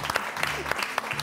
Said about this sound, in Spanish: Un aplauso para Nube de María.